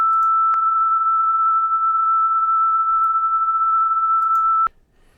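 A continuous pure sine wave tone with a flutter effect applied sounds alone with a faint, subtle wavering in its level, then cuts off abruptly near the end.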